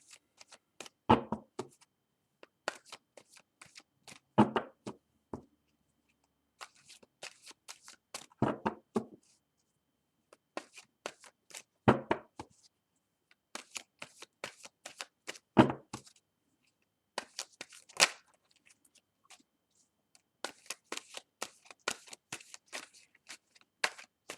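Cards are shuffled by hand for a three-card tarot spread in repeated bursts of riffling and snapping, with short pauses between rounds, close and fairly quiet.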